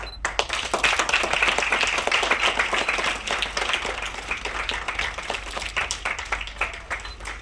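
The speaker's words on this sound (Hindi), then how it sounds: "ऑडियंस इतनी समझदार है, तालियां खुद ब खुद बजा रही है।" Sustained audience applause at an award function, dense steady clapping from a crowd filling the whole stretch, loud and continuous without speech.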